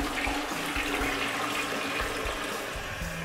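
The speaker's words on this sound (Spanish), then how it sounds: "Vamos a echar el agua por la cisterna y ya verás cómo toda esa suciedad que tenía ahí se va." A toilet flushing after being cleaned with cola, a steady rushing and gurgling of water that stays fairly quiet and close throughout.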